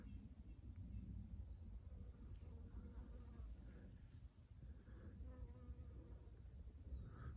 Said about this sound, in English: Western honeybee.